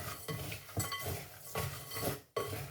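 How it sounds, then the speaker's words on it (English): A spoon stirs mixed nuts with cayenne pepper and salt in a bowl, giving repeated scraping, rattling strokes in bursts with a brief pause near the end, close up and fairly quiet. "we're going to mix all of this together"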